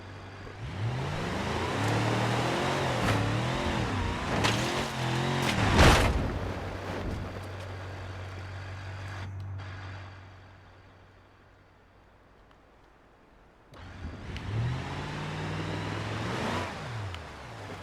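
A car drives over lava rock terrain, its engine rising and falling through revs with wind rush, then dropping to a quiet stretch before pulling hard again.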